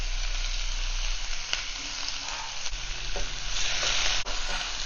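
Chopped onion and curry leaves fry in oil with popped mustard seeds and dal for a tomato chutney, a steady close sizzle with occasional stirring scrapes and knocks.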